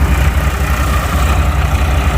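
A tractor-driven groundnut thresher runs in the field: a loud, close, steady low engine drone with a pulsing throb.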